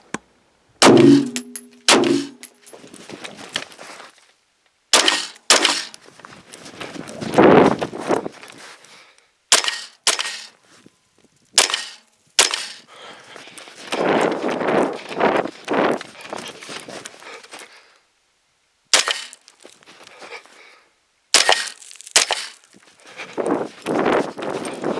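Sharp gunshots from an AR-15 fitted with a red dot sight, fired in quick bursts with short pauses, each shot followed by a ringing clang as steel targets are hit at short range.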